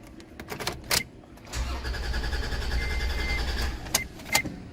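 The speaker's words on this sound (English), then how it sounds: "The car shut off by itself." A 2013 Toyota Tundra with an immobilizer fault cranks and starts after a few clicks, idles for a couple of seconds with a steady rumble, then dies on its own, followed by a couple of sharp clicks.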